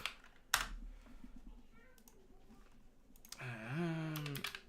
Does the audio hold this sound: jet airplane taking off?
no